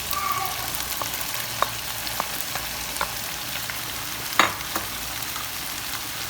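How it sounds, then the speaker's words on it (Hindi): Capsicum, carrot, cabbage and green onion are stir-fried with chicken for restaurant-style fried rice, making a continuous close sizzle dotted with scattered spatula clicks and one sharper clatter near the end. "इनको हम सही से मिक्स कर लेंगे चिकन के साथ।"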